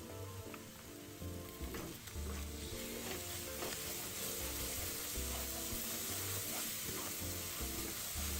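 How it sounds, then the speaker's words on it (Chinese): Chili paste with sugar, chili powder and garlic stir-frying slowly over low heat in a wok, a steady soft sizzle running throughout with faint scraping stirs, no talking. "炒辣椒糊要注意火候控制，必須要小火慢炒"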